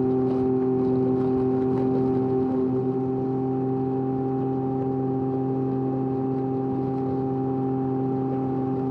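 A Can-Am Ryker fitted with a Two Brothers S1R exhaust drones steadily while riding on a road trip, a constant mid-pitched engine hum held at an even cruising speed with no revving and no voices.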